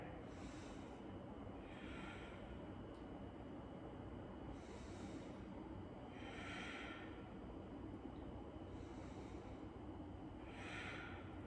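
Slow, steady breaths drawn in and out through the nose during a gentle yoga pose, about three soft breath cycles against a low hum of room noise, quiet and close.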